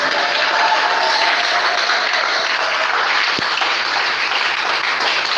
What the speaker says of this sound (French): On acclame très fort le roi des rois